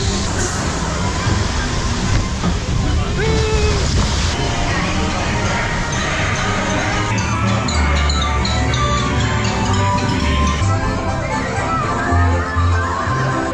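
A Splash Mountain log flume ride at Magic Kingdom splashes and rushes through water, a loud steady wash of noise with riders chattering and shouting close by.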